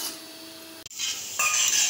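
Mathri frying in oil in a pan gets stirred, with a quick clink of the spoon against the pan and then a steady, bright sizzle that swells louder, close up and with no talking.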